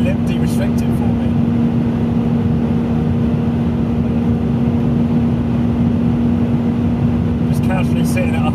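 Cabin drone of a V12 BMW 7 Series cruising at very high speed on the road, a continuous steady engine and road roar with a sustained hum, nothing else standing out.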